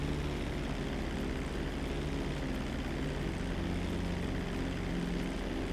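A struggling propeller plane engine in GTA 5 drones steadily and loudly for the whole stretch, a low, rough hum that never fades or breaks.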